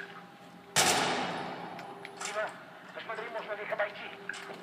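AK rifle fire in the video game Battlefield 3: a sharp, loud blast followed by a fading echo, then several quieter bursts of shots. Someone talks over it.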